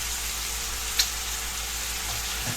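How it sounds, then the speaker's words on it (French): Pork sizzles steadily in a hot pan for a lacquered pork sauté, a soft, even frying hiss with a brief clink and a faint stir near the end, and no voices. "je récupère bien tous les sucres et je verse mon eau"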